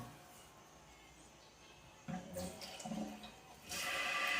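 Water running from a toilet tank overflowing into the bowl, a steady trickle that swells into a louder rushing flow near the end.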